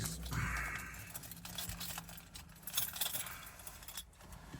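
Car keys jangle and rattle at close range for several seconds, a busy metallic clinking with no voices over it.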